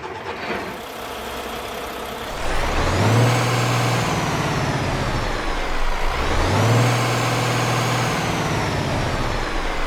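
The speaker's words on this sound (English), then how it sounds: "let's go ahead and get our Mac Anthem Black Edition started up and get on the road" A Mack Anthem Black Edition truck in American Truck Simulator cranks and starts, then its diesel engine rumbles and revs up twice in two rising surges, loud and close, with a steady idle-like drone between.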